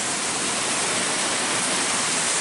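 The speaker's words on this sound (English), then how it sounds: "you listen very closely, you can hear the pumps rolling" Pump station pumps churning white water on the Mississippi River, a loud, dense, continuous rushing roar with no pauses.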